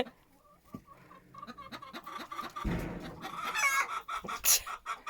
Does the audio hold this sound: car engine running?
no